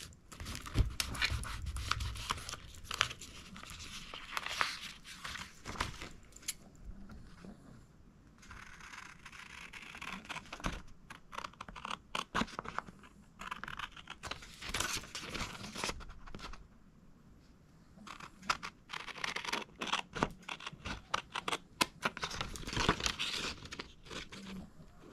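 Scissors snip through paper near the microphone in irregular bursts of crisp cutting and rustling, pausing briefly between strokes, quiet and alone throughout.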